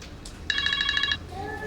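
A telephone in a GP's doctor's office rings with a rapid electronic trill, a single burst of about half a second, fairly close over low room noise.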